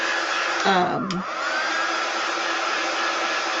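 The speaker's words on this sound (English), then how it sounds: "if you're using an embossing heat tool or even a hair dryer, make sure it's on a cool setting" A hair dryer blows steadily onto a plastic chopping mat from a dollar store during a tiered-tray craft, giving a close, continuous whooshing roar with a brief dip in airflow early on.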